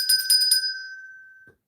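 A jingly bell sound effect rings out on a livestream, a bright rapid shimmer of chimes for about half a second, then one sustained tone fading out alone.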